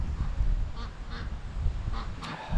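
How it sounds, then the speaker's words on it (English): Ducks quack from young ducklings hatched on a hobby farm, several short bursts spread through the moment over a steady low outdoor rumble, moderately near. "we have some ducklings that were hatched here on the farm"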